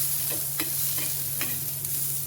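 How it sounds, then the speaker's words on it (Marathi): Eggs shallow frying in a pan of oil for egg curry, a steady close sizzle with occasional soft stirring scrapes over a low hum, no voices. "शॅलो फ्राय मस्त असा छान करून घ्यायचा"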